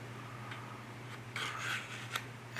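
Quiet, close scraping of a plastic scale-model fuselage curve, with a few short rasping strokes and light ticks over a faint background hum, and no talking.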